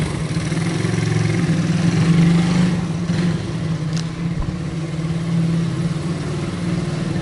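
A 1975 Honda CB125S motorcycle with a new carburetor idles close by, a steady even putter with a smooth low hum that holds throughout, rising only slightly for a moment.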